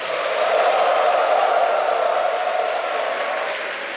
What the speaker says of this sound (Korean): 큰 박수와 환호 부탁드립니다